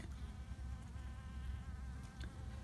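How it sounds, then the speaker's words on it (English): Honey bees in a rotten tree drone in a steady, continuous buzz close by, a low hum with no voices. "You can see a couple of the bees flying around."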